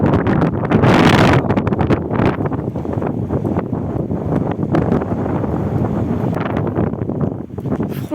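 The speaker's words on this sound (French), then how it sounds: "Et il y a le vent qui s'est levé d'un coup là." Sudden wind gusting at a boat anchorage off Cabo Verde, loud buffeting rushes and microphone blasts rising and falling over several seconds, strongest at the start.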